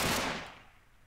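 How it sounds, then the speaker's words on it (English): Single AK-47 shot from the Flans Mod weapons add-on for Minecraft, a loud close burst that decays over about a second with no talk. "for the AK-47."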